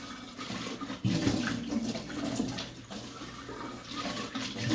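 Tap water runs steadily into a sink as a container is rinsed, a continuous close splashing rush with a slight surge partway through.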